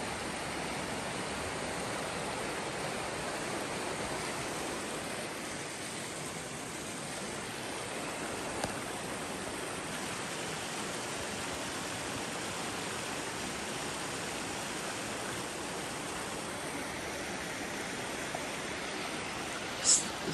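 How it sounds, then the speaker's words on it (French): Steady broadband rushing of flowing water, continuous and fairly close, with no voices over it. "Avec une belle rivière de même."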